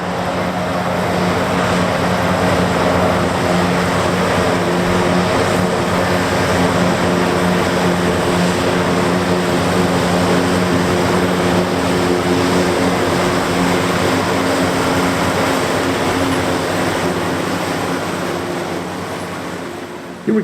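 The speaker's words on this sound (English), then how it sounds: "Here we can see the farmer's perspective of operating the Massey Ferguson 8S.265 tractor." A Massey Ferguson 8S.265 tractor runs steadily while harvesting corn, its constant engine drone heard from the cab with a low, even hum and broadband rumble that holds through to the end.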